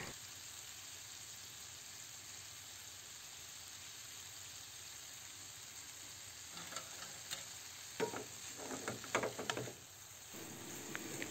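A frying pan of kangkong with oyster sauce, pork belly and tofu sizzles steadily under a steam hiss, then a spatula stirs it with a few scraping, clattering strokes near the end.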